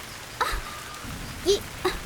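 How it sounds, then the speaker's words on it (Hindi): Steady rain hisses throughout, with a few brief chirpy vocal sounds popping up over it. "अरे बारिश हो रही है"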